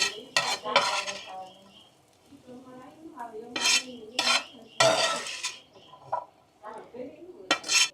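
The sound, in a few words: serving cheesy butter masala jinjara from the pan into a dish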